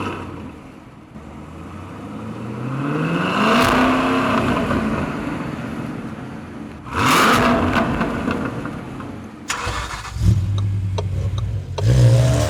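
Cadillac CT5-V Blackwing pulling away on a race circuit, its engine revving up in loud rising sweeps with gear-change pauses and a deep burbling idle between pulls.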